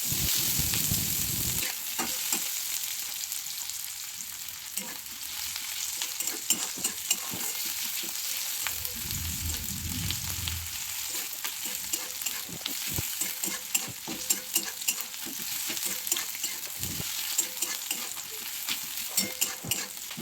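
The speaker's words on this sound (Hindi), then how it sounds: "तापर दे देली प्याज आउ प्याज के भल से टिके भाईमा।" Onions frying in oil with mustard seeds and dried chillies, a soft continuous sizzle under repeated scraping and stirring clicks from a spatula in the pan, close and moderately quiet, no talking.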